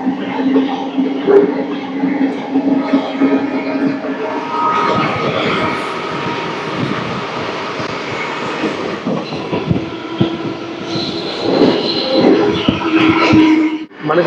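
A train running alongside while another train waits at a signal: a steady broadband rumble with droning engine tones and metallic squeals, loud and continuous throughout, with no talk.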